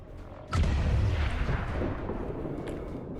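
A grenade explodes in XCOM 2: War of the Chosen, a sudden deep blast after a brief quiet moment, followed by a rumbling, crackling decay that slowly fades.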